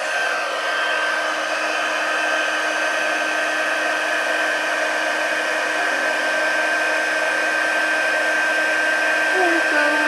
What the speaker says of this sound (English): Okay, now I'm going to bring in my heat tool.